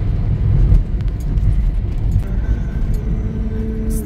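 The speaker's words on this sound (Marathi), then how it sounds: "हे सर्व गाड्या आहेत ना कोकणात चाललेल्या आहेत बहुतेक" Cars drive past on a highway toward the Konkan region, a steady close road rumble of passing vehicles with engine drone and tyre noise filling the whole stretch.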